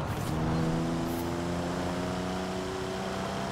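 A Toyota 2000GT's engine in the video game Forza Horizon 4 drones steadily with a smooth, slowly rising hum, constant and fairly loud, no voices.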